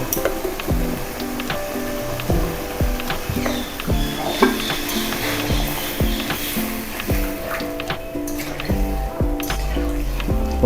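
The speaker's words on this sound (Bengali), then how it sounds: "মশলা ধোয়া জলটা দিয়ে দিলাম" Fish curry of kaanch tangra fish sizzles and bubbles in a pan as spice-rinse water is poured in, a steady crackling hiss with clinking and stirring knocks throughout, no talking.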